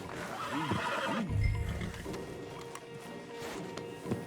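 A horse whinnies loudly up close in Red Dead Redemption 2, a rising and falling neigh followed by snorts and quieter shuffling.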